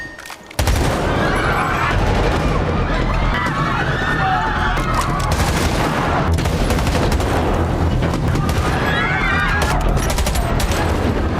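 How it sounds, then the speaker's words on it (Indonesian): A loud, dense burst of movie-scene gunfire erupts after a brief quiet start, with rapid overlapping shots and booms continuing throughout, and scattered shouting voices in the mix. "dia bernama Mac, secara membabi bagong menembakin semua orang di sana"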